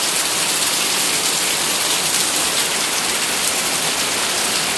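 Steady, heavy rain falls in a dense, even hiss during cool weather, unbroken and close, with no voices.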